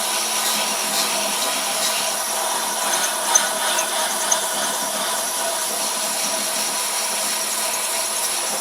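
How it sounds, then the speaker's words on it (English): Abrasive paper works a segmented Corian and aluminium pen blank through grits from 120 to 600, giving a steady, even hiss of sanding with a faint mechanical hum and no talk. "we're now in the process of sanding. Going to go from 120 grit through to 600 grit"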